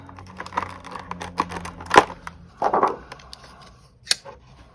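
Ozark Trail knives are popped out of a molded plastic tray: scattered close plastic clicks and snaps, with one sharp crack and a few quick rustles, and no talking.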